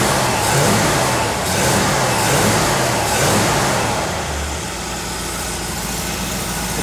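A Chevrolet C10 pickup's engine runs steadily and loudly nearby while its timing and idle are adjusted, with a rough, pulsing idle whose speed drops slightly partway through.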